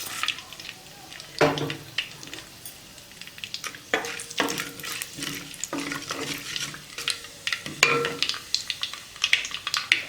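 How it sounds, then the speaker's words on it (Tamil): Mustard seeds and fenugreek hit hot oil in a pan for a sardine curry, bringing a close, crackling sizzle. Sharp pops and spatters punctuate the frying throughout, with no one talking. "எண்ணெய் காஞ்சிடுச்சு கடுகு வெந்தயம் போட்டுக்கலாம்"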